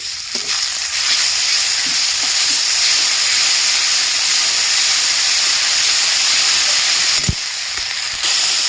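A splash of water hits a hot pan of cumin, dried red chilli and spices, bursting into a loud, steady sizzling hiss that fills the scene close up, with a brief clink near the end and no talk.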